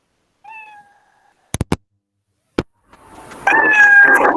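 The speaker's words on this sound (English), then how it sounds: "So my cat will say meow at the end of one loop." Cartoon-style cat sprite meow from a programmed loop, heard as a short tonal meow near the start, then a few sharp clicks, with louder noisy electronic sound building toward the end.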